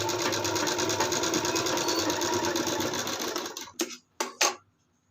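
A sewing machine runs a continuous close stitch along the back side of a blouse, then stops and gives two or three short bursts before falling silent.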